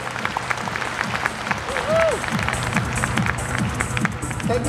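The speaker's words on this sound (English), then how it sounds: "Could you please give him a big round of applause as he joins me on stage." An audience applauds at a corporate Lunar New Year gala on stage, steady dense clapping filling the room, with crowd noise and a brief voice mixed in.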